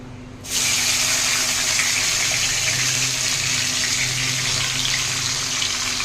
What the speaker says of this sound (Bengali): গরম মশলা আর তেজপাতা তেলের মধ্যে দিয়ে ম্যারিনেট করা মাংসটাকে ঢেলে দিয়েছি